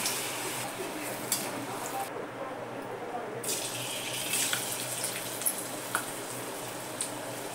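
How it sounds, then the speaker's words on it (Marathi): Colocasia leaf rolls frying in oil, a steady broadband sizzle and bubbling that carries on throughout with occasional small pops, under someone speaking. "मग जरा ते जेव्हा तेल मंद होतं तेव्हा मग पदार्थ व्यवस्थित तळला जातो"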